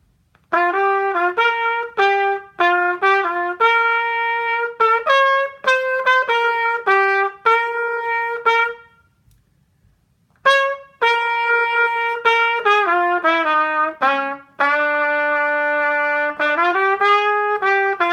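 A blues melody in swung eighth notes, played on a bright horn-like instrument, with a short pause midway before the tune resumes.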